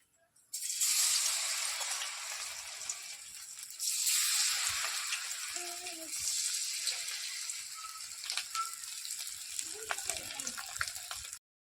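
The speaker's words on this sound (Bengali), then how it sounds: "পনিরগুলো এই কর্নফ্লাওয়ার জলের মধ্যে এবার চুবিয়ে এটা ভেজে নেব।" Cornflour-coated paneer pieces hit hot oil in a wok, each drop setting off a loud burst of hissing sizzle that settles into steady frying, with brief low voices in the background.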